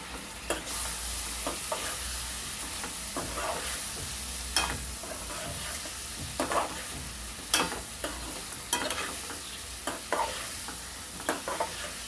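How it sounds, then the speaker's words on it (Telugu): A spoon scrapes and clanks against a pan in irregular strokes over a constant frying sizzle as turmeric is stirred into a brinjal, egg and dry prawn curry, close up and with no talking. "1/2 స్పూన్ ఒకసారి కలుపుకోవాలండి"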